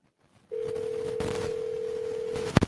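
A steady ringback tone on an outgoing phone call holds one long unbroken note at moderate level, then cuts off into a couple of brief clicks near the end.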